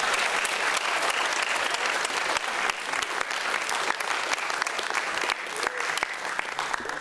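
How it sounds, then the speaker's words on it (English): Audience at a film Q&A event clapping, a loud sustained round of applause from a crowd that carries on steadily throughout. "Big round of applause."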